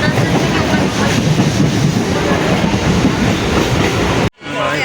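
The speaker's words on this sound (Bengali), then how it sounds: "ট্রেনটা সোনারপুর থেকে ছেড়ে দিয়েছে।" Local train running out from Sonarpur toward Baruipur, heard as a steady loud rolling rumble from on board, ending abruptly near the close.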